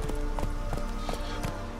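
Horse hooves clip-clopping in a steady trotting rhythm while riding in the video game The Witcher 3, heard over a continuous game background.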